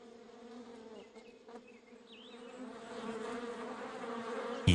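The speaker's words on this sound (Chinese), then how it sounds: "由于主产区在喜马拉雅周围的雪山下，岩蜂又被称为喜马拉雅蜜蜂。" Himalayan rock bees swarm around their nests beneath cliffs in the snowy mountains of Yunnan, a steady droning buzz of many wings close by that swells gradually, with a sharp noise at the very end.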